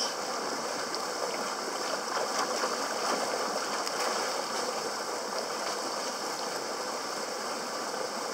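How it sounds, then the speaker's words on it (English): A flowing stream at a secret swimming hole gives off a steady, even rush and babble of water, close and continuous throughout with no voices. "Welcome to the secret swimming hole."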